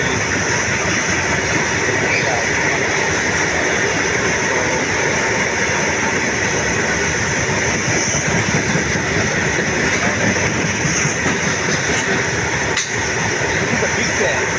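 Indian Railways freight goods train with many wagons rolling past close by, a steady, loud broadband rumble with rail clatter lasting the whole stretch, no voices over it.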